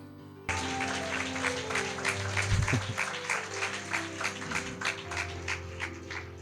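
A church congregation claps together at an Odia live worship service, a steady, fairly loud run of rhythmic claps over a low sustained instrumental tone after a brief silent start.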